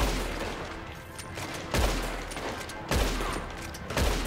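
Gunfire in the video game Red Dead Redemption 2: a dense, continuous barrage of shots over a loud rumbling battle bed, with three heavier blasts standing out at roughly even intervals.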